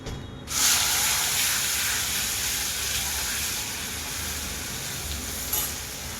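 Ground masala spices sautéed in hot oil in a pan, a steady dense sizzle and hiss that starts abruptly and continues close and loud, with a faint stir near the end.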